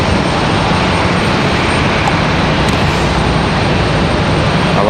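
An Alaska Airlines Boeing 737-900 airliner on the move at Raleigh-Durham International Airport, heard as a loud, constant wash of engine noise that stays steady from start to finish.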